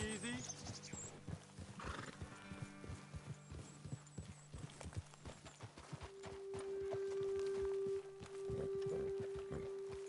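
Horses clip-clop along at a walk with several close whinnies in Red Dead Redemption 2, under a bed of game music and a voice talking over it.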